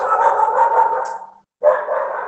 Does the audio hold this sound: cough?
no